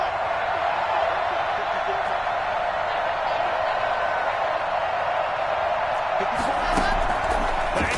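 Football stadium crowd roaring ahead of a two-point conversion try, a dense, sustained wall of cheering and noise with some claps and whoops near the end, loud and continuous throughout.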